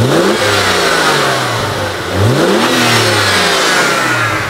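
A BMW 1M E82 engine revs hard twice, its pitch sweeping up and settling between rises. The sound is loud, close and continuous, with no talking.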